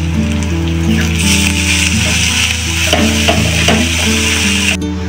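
Crushed garlic hits hot oil in a pan with a loud, steady crackling sizzle, stirred with scraping clinks close by and no voices.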